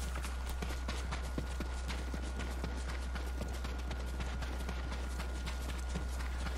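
Horse hooves clip-clop steadily in Ghost of Tsushima, a quick even patter of many hoofbeats over a constant low rumble, continuing throughout with no speech.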